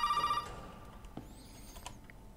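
A telephone rings in the survival horror game Resident Evil 7, opening with a steady electronic tone that cuts off after a moment, followed by quieter game ambience and a few faint clicks.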